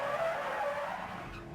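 A race car skids into turn 1 at Daytona during the 2011 Rolex 24 endurance race, a brief, fairly quiet tire squeal with engine noise heard from a distance.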